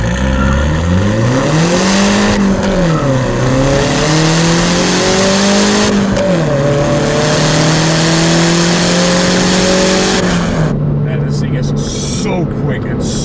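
A 2014 Mini Cooper S with a 6-speed manual gearbox pulls hard, its engine note climbing loud and close, dropping at each gear change and rising again.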